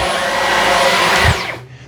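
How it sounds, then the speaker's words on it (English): A Dyson V15s Detect cordless vacuum cleaner with its motor running in a loud steady whir that then spins down and cuts off near the end, up close and alone. "the vacuum cleaner part kicks on"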